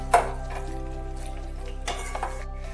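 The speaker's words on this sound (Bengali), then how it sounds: "আলু আর কপি একসাথে ভালোভাবে নেড়ে নিতে হবে।" Fried potato and cauliflower pieces are stirred in a pan, with a spatula clinking against the metal in a few sharp scrapes over a quiet, steady sizzle.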